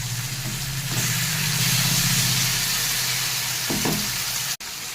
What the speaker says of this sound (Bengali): পেঁয়াজটাও ভাজা হয়ে গেছে, দিয়ে দিচ্ছি কচুর শাকটাকে